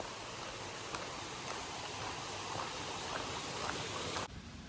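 A creek running beside a green, lush forest trail in the Great Smoky Mountains on the Appalachian Trail, a steady broadband wash of flowing water heard alone at low level, cutting off abruptly near the end.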